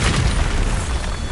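A Bombarda blasting spell goes off in Hogwarts Legacy as a loud, booming explosion with a deep rumbling body that fills the whole moment without a break.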